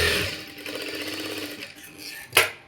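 A sewing machine runs briefly and close up, stitching two layers of cloth together for an umbrella frock, with a quick steady whirring burst that ends in a sharp click.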